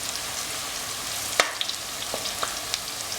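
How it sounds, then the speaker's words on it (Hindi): Onions frying in oil until light brown for a mutton curry make a dense, even sizzling hiss with scattered small pops and crackles, close and continuous, with no voices. "इन प्याज को हम बढ़िया लाइट ब्राउन कर लेंगे"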